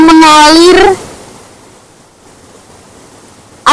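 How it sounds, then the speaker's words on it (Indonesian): Water flowing at the Curug Lawe waterfall makes a soft, steady rushing hiss, heard alone after a brief voice at the start and holding level until a sharp sound cuts in at the very end. "ada gemericik air, membuat hati kita teduh."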